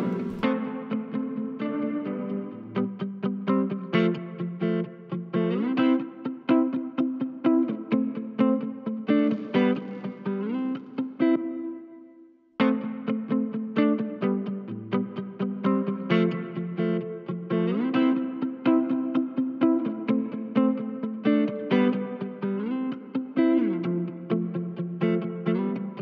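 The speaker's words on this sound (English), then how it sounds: "Just playing around a bit with the reverb." A clean electric guitar plays chords and picked notes with a lush, spacious reverb tail, a brief pause midway before the playing resumes.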